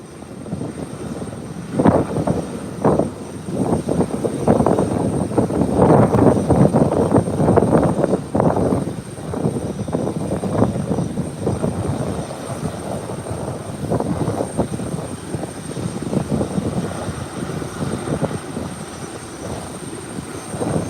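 Aircraft engine noise at Howard Hamilton International Airport, a steady loud roar with rising and falling propeller or jet surges, heard from nearby for the whole stretch with no talk over it.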